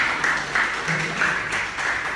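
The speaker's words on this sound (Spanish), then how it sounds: "claro que sí, un aplauso nuevamente" An audience applauds at a live event in Lima, Peru, with clapping that surges and dips in short waves over about two seconds.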